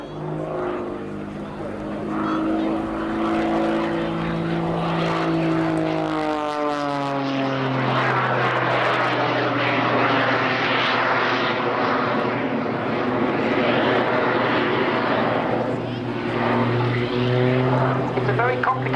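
The Jet Pitts aerobatic biplane, fitted with a piston engine and two electronically controlled jet engines, flies a partial flat inverted circle at an air show. A loud, sustained engine roar shifts in pitch as it passes, and a commentator talks over it.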